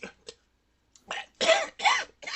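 Several harsh coughs come in quick bursts, starting with two short hacks, then a pause before heavier, louder coughing close to the listener.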